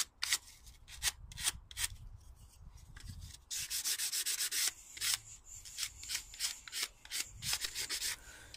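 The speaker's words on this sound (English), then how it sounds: "I'm just giving it a final sand, taking off any rough edges, just neaten it up a little bit" A handmade wooden ruler gets a final hand sanding to smooth rough edges, with close, rhythmic scratchy strokes of varying length and no talking.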